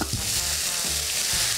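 Vegetables sauté in a hot pan, giving a loud, continuous sizzle and crackle up close, with a few faint low knocks as they are stirred and no voices.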